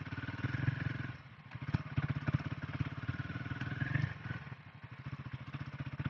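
A hot motorcycle idling after long first- and second-gear riding through mud in the Araku ghats, a rapid steady engine pulse with a whirring radiator fan rising and falling over it.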